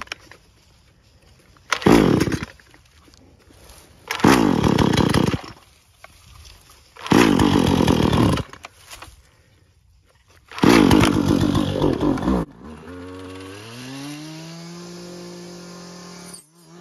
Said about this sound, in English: my poor bush blade here needs a little carb work or something